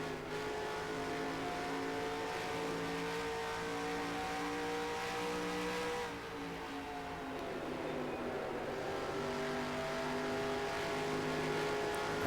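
A 1998 Chevy Monte Carlo race car in a racing game holds a loud, steady engine drone, its pitch dipping and climbing again through a gear change, with no talking.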